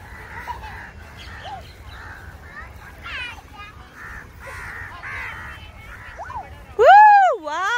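Several crows caw in a city park in Mumbai, harsh calls rising and falling through the clip and ending in a loud, close, drawn-out caw, while a small child and an adult talk underneath.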